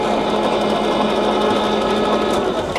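A San Yuen GF2000A centre lathe runs at its highest speed in the low range, giving a steady, close, whirring mechanical hum with a faint whine, alone with no talk.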